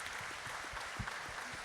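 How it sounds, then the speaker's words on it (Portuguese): A church congregation at an evening service claps in a short, steady round of applause, moderately faint and even throughout. "Uma salva de palmas."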